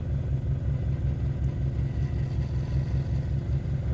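Small engine driving a cheap PMA generator, throttled down to a low, steady rumbling idle with an even pulsing beat, close and continuous throughout.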